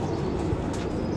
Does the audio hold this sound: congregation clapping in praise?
no